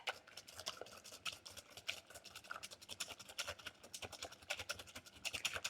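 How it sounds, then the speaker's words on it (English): A whisk beating oatmeal pie batter in a batter bowl, making quick, steady scratchy taps in a fast rhythm, close and fairly faint. "So let's whisk it."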